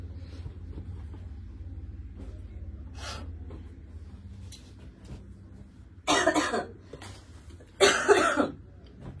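Coughing in a busy clothing shop selling kurtis in Dum Dum: a faint cough early on, then two loud, harsh bursts near the end over a low background rumble.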